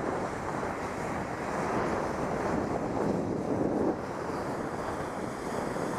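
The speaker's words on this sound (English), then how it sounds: "they're blowing more snow down here in the learning area." Snowmaking machines blowing fine snow across the learning area of a ski slope, a steady, dense roar like rushing wind that holds constant throughout.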